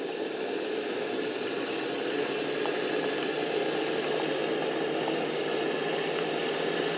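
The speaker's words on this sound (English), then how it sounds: "you can actually power the lathe right from your flex shaft" A DIY mini jeweler's lathe built from off-the-shelf parts, driven by a flex shaft, runs with a steady whirring hum that stays even and fairly loud from start to finish, with no talking.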